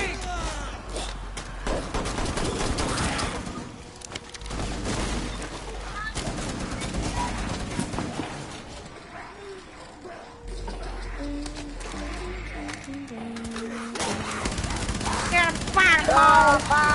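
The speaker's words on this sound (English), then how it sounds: "I'll freaking T'Chanka mount you. LMG mounted and loaded!" Mounted light machine gun fire in Rainbow Six Siege, rapid bursts of automatic shots mixed with game sounds and explosions, with a voice talking over parts of it.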